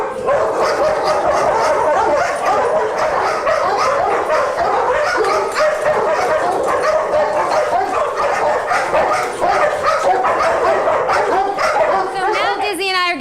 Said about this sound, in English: And what you'll see is some pretty nasty attack behavior from good old Dizzy girl here.